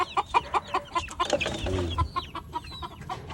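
Native free-range backyard chickens cluck in a steady run of short, repeated calls close by, with a brief low rumble partway through and no talking.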